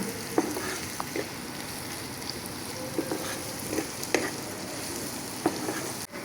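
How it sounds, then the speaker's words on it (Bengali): Green chilies and ginger fry in a pan while being stirred, giving a steady close sizzle with scattered light scrapes and clicks of the spoon throughout. "কাঁচামরিচ আর আদা একই সাথে দিলাম। দিয়া আরও কিছুক্ষণ নাড়াচাড়া করি"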